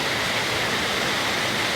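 A waterfall at a rocky campsite stream in Yalova roars with steady, dense, broadband rushing water, close and loud throughout, with no voices.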